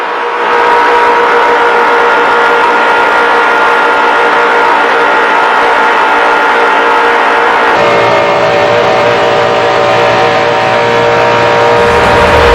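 NASCAR stock cars in a pack during the 2004 Daytona 500 at Daytona, a loud, continuous roar of many engines droning together, with a shift in pitch partway through.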